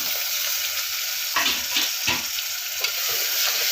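Tomatoes are sautéed in a pan for mushroom biryani, giving a constant loud sizzle with a few scraping stirs that briefly rise above the frying hiss, close up and with no talk.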